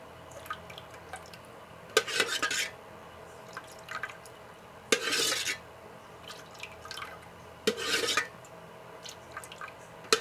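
Water is poured in short bursts onto the joint where a gas regulator meets its rubber pipe, giving three or four splashy trickles separated by quiet pauses.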